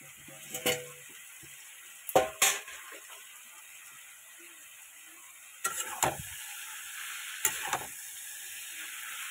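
Prawns frying in a pan with kochur loti (taro stolon), a faint steady sizzle broken by a few sharp clanks of a spatula scraping the pan, no talking.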